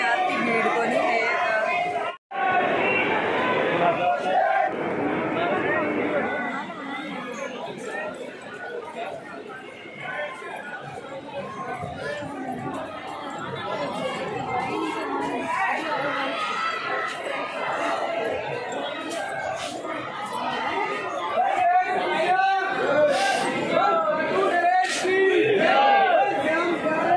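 Dense crowd of pilgrims at the Khatushyamji temple during darshan, a continuous loud roar of many voices with shouts and chanting cries rising and falling throughout.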